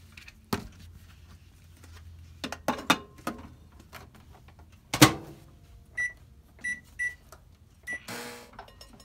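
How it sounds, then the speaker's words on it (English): Microwave oven heating a mango mochi mixture, clattering of a door and dish handling followed by a few short electronic beeps, quiet room, no speech. "and microwave it for 2 minutes."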